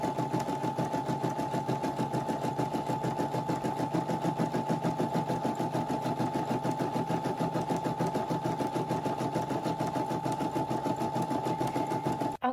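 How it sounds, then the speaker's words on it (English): An embroidery machine stitches an ear headband with a fast, even mechanical chatter and a steady hum, close and continuous until a clunk at the end. "I'm going to reattach this back to my embroidery machine, and it's going to do a couple more stitches."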